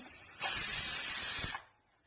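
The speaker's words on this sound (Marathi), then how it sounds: "कुकरच्या शिट्ट्या झाल्या" A single loud, steady hiss of steam bursts out for about a second from a pressure cooker whistle, then cuts off abruptly into quiet.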